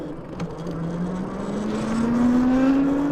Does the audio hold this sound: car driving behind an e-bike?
yes